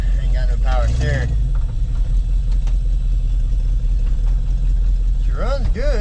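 An abandoned 1977 Chevy K20 square-body truck, engine running with a low steady rumble, loud and close, while someone talks over it at the start and near the end.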